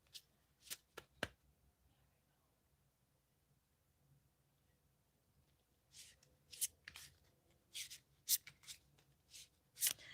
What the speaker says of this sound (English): I'm not shuffling these cards really cool or anything